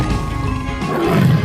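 A tiger in a 3D animal sliding game lets out a short, deep, growling roar, loud and close, lasting about a second and a half.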